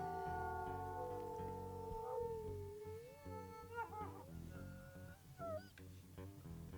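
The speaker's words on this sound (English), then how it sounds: "why don't I remember you having that howl?" A wolf howls in the WolfQuest video game, a long rising and falling tonal wail holding steady, then breaking into wavering upward calls with faint game background beneath.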